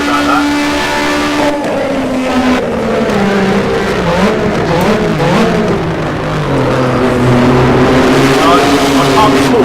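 A race car engine in the sim racing game rFactor 2 drones loudly up close, its pitch rising and falling through gear changes and throttle shifts over several seconds, with a voice talking faintly underneath.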